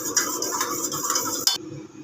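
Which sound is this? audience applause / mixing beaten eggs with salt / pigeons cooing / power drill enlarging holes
mixing beaten eggs with salt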